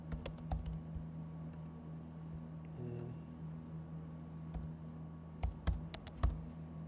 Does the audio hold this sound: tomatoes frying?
no